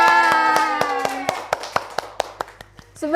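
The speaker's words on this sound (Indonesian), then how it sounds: "Ya, betul, tepuk tangan." A classroom of students claps a dozen or so distinct, sharp claps that start quick and spread out, while a brief tonal sound plays beneath the first few.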